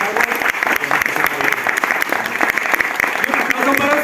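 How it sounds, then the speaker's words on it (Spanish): Audience applause for the two presenters at a book launch in a bookstore, a close, steady clatter of many hands filling the whole stretch. "Y ahora también les pido un aplauso para mis 2 presentadores."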